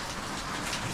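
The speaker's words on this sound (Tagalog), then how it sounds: "Ulan pa rin. Kalakas ng ulan." Heavy rain pours down in a dense, steady hiss that fills the whole moment with no pauses, loud and close, with no voices over it.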